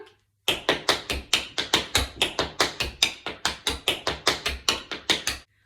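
Crisp tap-shoe paradiddles played from a seated position in a chair, a fast, even run of about two dozen close, sharp taps in steady rhythm, with no talk over them.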